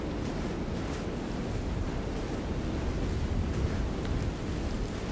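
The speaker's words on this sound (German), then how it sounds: "Ja, ein schön Wind hier." Wind blows steadily in the video game Kona II: Brume, a constant broad rushing with slight swells in strength and nothing else standing out.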